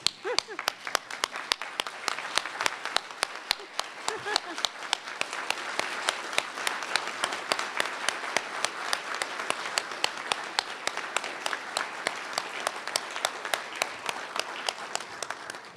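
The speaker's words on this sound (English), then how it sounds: "So we're going to stand and we're going to give you a round of applause again," A standing audience applauds at the annual Cafritz Awards ceremony for distinguished DC government employees, many hands clapping in a sustained, rhythmic ovation that stays strong, with voices murmuring faintly beneath.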